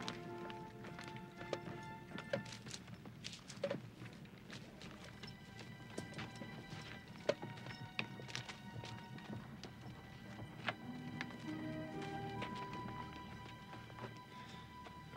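Horse hooves clip-clop steadily at a moderate distance in an outdoor scene from a 1987 World War I Light Horse film, with sharp knocks and a faint whinny amid a busy background hum.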